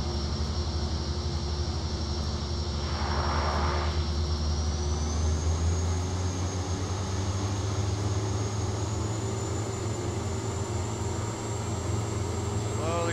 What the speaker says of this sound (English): Slowly start advancing those throttles, not to over torque.